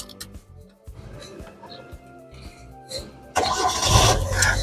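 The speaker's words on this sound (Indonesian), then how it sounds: "Sekarang kita coba nyalakan mobil." A manual-transmission car in neutral cranks with a short whirring starter, then catches and settles into a louder, steady idle after a few quiet clicks and shuffles.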